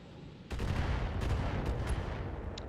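LRM missile fire in BattleTech, a sudden onset of dense, rumbling launches and impacts that continue as a sustained barrage with a few sharper cracks and a brief high whine near the end.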